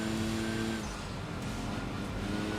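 A turbocharged Smart car in the racing game Enthusia Professional Racing, its engine droning steadily and loudly at high revs, with a whistling tone fading early on.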